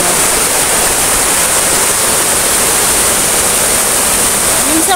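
A waterfall roars as a loud, dense, unbroken rush of falling water, steady and close throughout.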